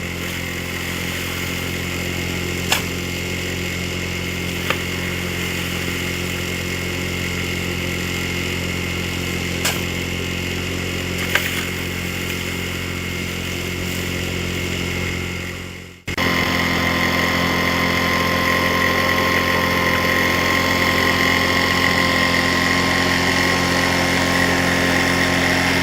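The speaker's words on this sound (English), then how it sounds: "we ran about 3 buckets worth of dirt through the dry washer" An engine-powered dry washer runs steadily while processing dirt for gold prospecting in a desert wash, a loud continuous motor drone with faint clicks, dipping briefly midway before resuming at a slightly higher, rougher pitch.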